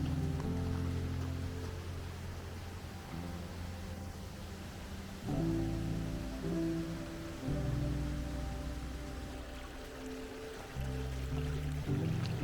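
Light drizzle outdoors on a remote hiking route near Inverie in the Scottish Highlands, a steady soft hiss of rain running throughout with a low, shifting background rumble.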